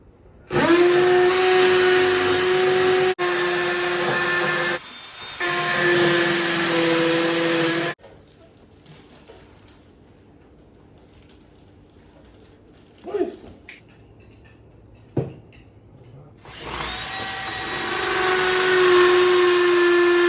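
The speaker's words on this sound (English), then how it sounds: "Alright, so I'm going to drill the hole now for this." A power drill whines loudly in two long bursts drilling a hole in a wall, with a brief pause, followed by quiet handling noises and clicks, then the drill starts up again.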